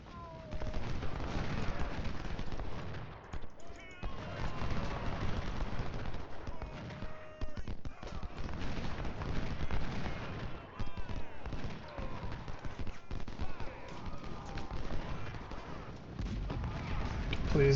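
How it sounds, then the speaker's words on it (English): Artillery and gunfire crackle through a Civil War battle in the strategy game Ultimate General: Civil War, with continuous dense booms and volleys rolling steadily throughout, some horse hooves and faint voices mixed into the din. "Let's bring up the artillery."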